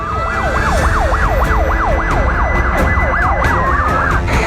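A fire truck siren wails loudly and continuously as the fire brigade arrives at a burning minibus, its rising and falling tone cycling rapidly over the low rumble of road traffic.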